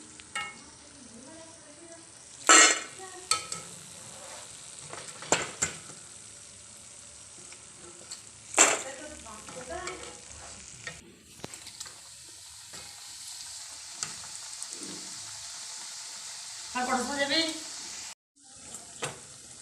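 Nimki pastries frying in hot oil in a Bengali kitchen give a steady close sizzle, with a few sharp loud clattering bursts and stirring noises. A voice speaks briefly now and then.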